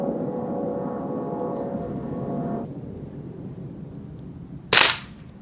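A Winchester 1977XS rifle fitted with a scope fires a single loud, sharp shot near the end, following a steady stretch of low rumbling background noise.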